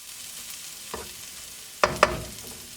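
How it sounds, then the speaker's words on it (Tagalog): Chicken paella with yellow rice being stirred in a pan, with a faint sizzle underneath and a few sharp spoon scrapes and clacks near the end, all close up with no talking. "Halu-haluin lang natin."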